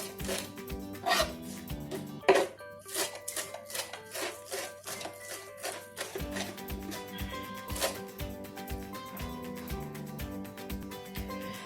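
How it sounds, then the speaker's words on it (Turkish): Parsley chopped very finely with a knife on a wooden board, a rapid steady series of close crisp blade taps and chops running throughout. "maydanozlarımı da tahtanın üzerinde çok ince bir şekilde gördüğünüz gibi kıydım"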